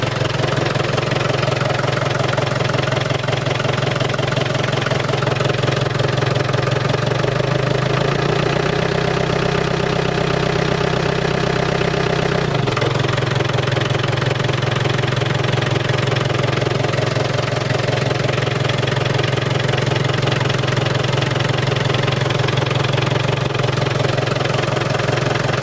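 An Iveco diesel engine idles steadily while warming up, a loud continuous drone close by with a brief change in pitch partway through, and no talking.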